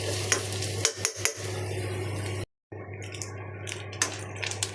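Grated coconut roasts in a pan, stirred with a utensil that scrapes and taps against the metal over a soft sizzle, close by, with a brief drop to silence partway through.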